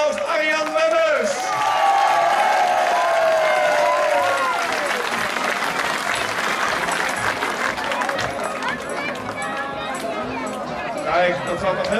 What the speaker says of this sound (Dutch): Geef hem een warm applaus, Arjan Webbers.